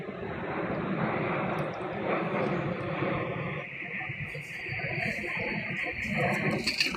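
An airplane flies overhead outdoors, its engine roar a broad steady drone that swells and fades over several seconds, fairly faint and distant, with a voice speaking beneath it.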